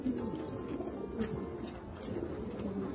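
Racing pigeons coo continuously in a dry, dirty loft, several low, warbling calls overlapping against a soft background murmur.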